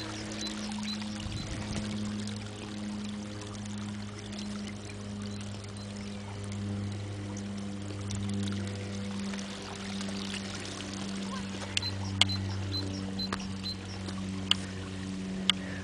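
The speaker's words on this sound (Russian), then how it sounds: "из канализационного коллектора по улице Первых Космонавтов льются канализационные отходы прямо в наше море" Sewage gushes from a collector outfall on Pervykh Kosmonavtov Street in Kerch straight into the sea, a steady pouring rush over a low, constant hum, with a few sharp clicks near the end.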